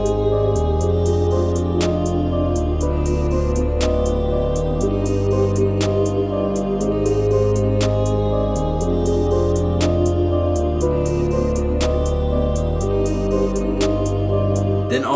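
Full drum arrangement of a type beat, loud looping pattern of hats, snares and deep bass with a steady repeating groove and no talking.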